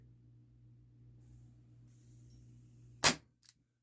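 A single sharp, close shot from an Umarex Beretta M84 FS 4.5mm CO2 air pistol cracks out of near silence over a low steady hum, followed by a faint brief click.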